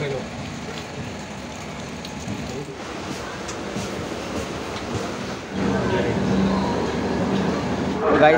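Kannur–Yesvantpur Express, train number 16528, pulls out of Palakkad station with a steady broad rumble and rattle from on board that grows noticeably louder partway through, with faint voices in the background.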